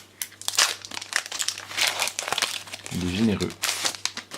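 A Genesect Pokémon booster pack wrapper crinkles and rustles as it is torn open, in short bursts of plastic crackle mixed with a voice talking over it.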